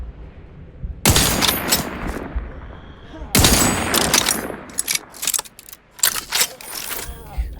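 Bursts of gunfire in the video game Outer Worlds 2: two long loud volleys followed by a string of sharp, rapid shots, all close and dominating the mix.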